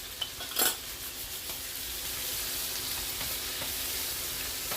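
Chillies frying in a pan with salt and turmeric stirred in give a soft, steady sizzle, with a brief utensil scrape and clink near the start, and the whole clip stays quiet and without speech.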